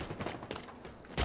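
Fast, muffled bursts of gunfire during a Halo Infinite multiplayer match, fairly faint and continuous, ending in a louder close burst.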